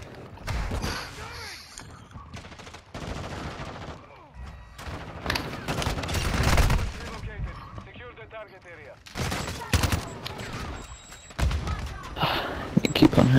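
Call of Duty gunfire in rapid bursts and scattered single shots, loud and close, with a player talking excitedly between volleys.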